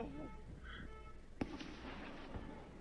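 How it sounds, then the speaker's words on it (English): A single sharp distant missile explosion cracks out over faint background murmur and quiet voices, followed by a short rumbling tail. "More sounds of explosions"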